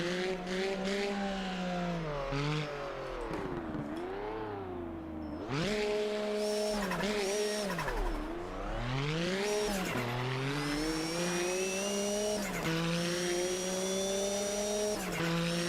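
Group C race cars heard from outside in Automobilista 2, engines rising and falling through repeated gear changes and passes, with loud sustained revving and occasional tire squeal.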